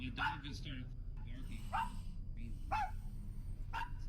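Dog barking in short bursts roughly once a second, at moderate distance, over a constant low hum and background noise in a spooky setting.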